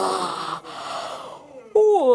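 People yawning during an office laughter workshop: a long breathy inhale and sigh, a brief pause, then a louder voiced yawn that slides downward in pitch. The yawns are close by, with no speech.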